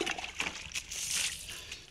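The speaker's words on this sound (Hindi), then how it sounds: "अब इसमें पानी डाल देता हूँ।" Water poured onto a soil-covered pit made for composting crop stubble, a steady splashing gush lasting a couple of seconds, close by and fairly loud with no talking.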